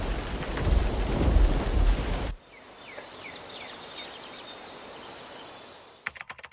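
Heavy rain pours loudly for about two seconds with rumbling low thunder, then cuts to quieter ambience with faint chirps.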